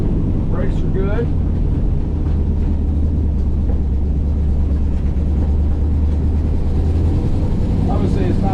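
A 1968 Ford Bronco's engine rumbles steadily while the truck drives, a constant low drone with road and wind noise from start to finish and a few faint chirps above it.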